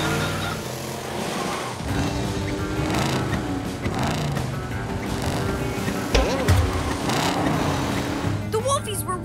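A cartoon PJ Masks hero car drives on its own with a continuous whirring, revving engine hum, mixed with music and bursts of character voices throughout.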